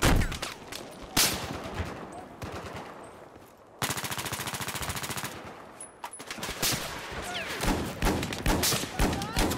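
Rapid bursts of automatic gunfire in Battlefield 4 multiplayer, loud and close, with sustained machine-gun strings broken by short gaps and some thudding impacts.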